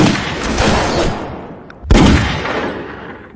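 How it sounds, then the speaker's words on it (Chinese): Gunfire in a Chinese action drama: a dense burst of shots and rumbling reports, then a second sharp, loud crack near the middle that decays into a lingering echo. "有狙击手，大家快趴下！"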